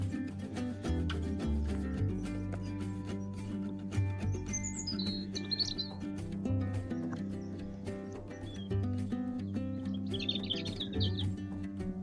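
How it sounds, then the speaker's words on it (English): Birds chirp and trill outdoors near the radar tower at Coalhouse. The short, faint bursts of song sit over a steady low rumbling background. "Nice to hear with different bird song."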